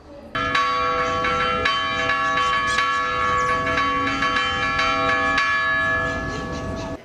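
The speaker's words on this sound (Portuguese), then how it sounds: "o Toque dos Sinos, que é um patrimônio imaterial." Church bells in São João del-Rei, Brazil, ring continuously in the traditional bell-ringing style, with repeated, overlapping strikes and long ringing tones, loud and full, with no talking.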